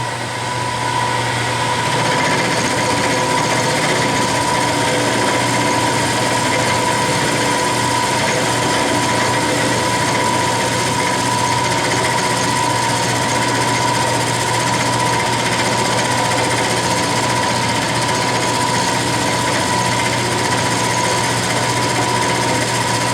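A metal lathe makes a steady, continuous machining sound as a round insert tool takes roughly 20-thousandths cuts, with a constant high whine and motor hum running alone for the whole stretch.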